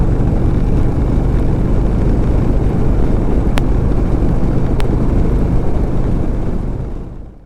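A 2007 Harley-Davidson Softail Deluxe cruising at highway speed, a loud steady engine drone mixed with heavy wind rush, continuous and close, fading out at the end.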